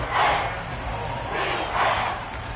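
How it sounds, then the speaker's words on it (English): Stadium crowd noise in a PS5 football video game, a broad steady roar that swells and fades under ongoing voices. "This crowd turning up the decibel level."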